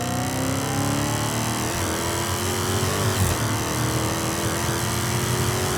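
A 707 hp Dodge Hellcat accelerates hard from around 3,000 RPM, its engine note a loud, steady, sustained roar heard up close with no talking.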